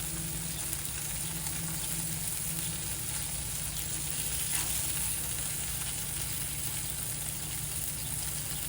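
Burger patties sizzle on a camp griddle beside toasting buns, a constant loud hiss with a low motor-like hum underneath and no voices.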